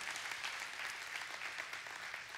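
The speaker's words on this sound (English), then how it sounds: "can we give a round of applause for all those that are joining us online?" Audience applause fills a church sanctuary during a Palm Sunday service: steady, dense clapping from a full congregation, moderately loud and sustained throughout, with no voices over it.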